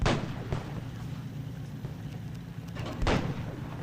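Two heavy tank cannon shots boom about three seconds apart in the Armored Aces video game, each a sharp close blast. A steady low engine rumble runs underneath.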